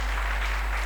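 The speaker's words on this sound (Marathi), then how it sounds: "टाळ्या वाजवा, हेल्थ कॉन्शियस लोक आहेत" An audience breaks into applause at a business networking event, a brief dense burst of clapping over a low steady hum.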